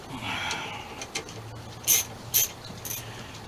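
A torque wrench clicks a few times as it tightens the steering wheel nut on a 1978 Dodge W-150 pickup, giving sharp, well-spaced clicks over a faint background hum.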